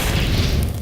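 A gas cylinder blows up in Half-Life 2, a single short, loud, booming blast with a crashing burst that fills the whole moment.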